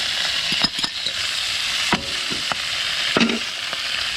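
Chopped vegetables sizzle in a hot pan alongside freshly caught squid and chili, with several sharp scraping stirs and knocks breaking through the steady close frying hiss.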